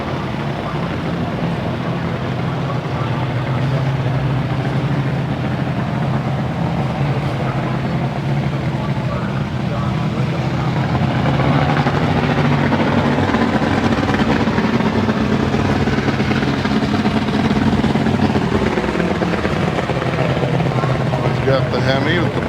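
A small-block hot rod engine roars steadily and loud at Famoso Dragstrip, the sound thick and rumbling, with a voice talking over it.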